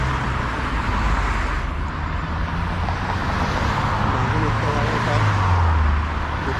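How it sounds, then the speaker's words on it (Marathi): Steady road traffic at 6:42 in the morning, a continuous roar of cars and buses with a heavier vehicle rumbling closer near the end, while a voice talks over it. "इतकी ट्रॅफिक आहे."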